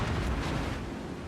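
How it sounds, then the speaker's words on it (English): Torpedo strikes on a battleship in a naval warfare video game: a heavy, rumbling explosion burst, loud and close, fading into a dense low roar within a second or so. "There are the torpedoes."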